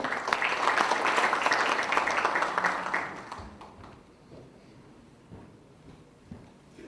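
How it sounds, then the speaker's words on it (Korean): Applause from a gathering of local government heads welcoming a provincial party committee chairman, loud and dense for about three seconds, then fading into quieter room noise with scattered faint sounds. "어기구 위원장님 박수로 맞아주십시오"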